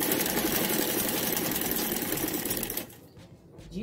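Home sewing machine stitching strips of plastic bag, its motor running as a steady close whir for nearly three seconds before stopping and leaving a few faint clicks.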